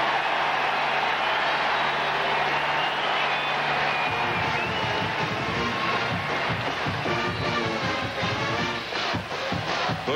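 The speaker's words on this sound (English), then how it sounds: "Bush gets a breather, also gets a round of applause from the South Carolina faithful" Applause from the South Carolina home crowd at a 1999 college football game against Georgia, greeting fullback Bush as he leaves the field, a broad continuous clapping roar with a commentator talking over it.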